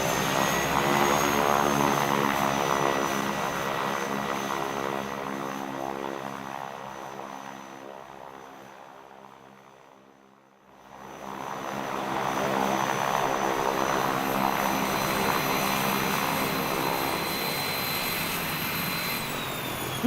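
A passenger plane's engines roar steadily during takeoff, loud and droning with a brief dip in the middle before swelling again, no talking.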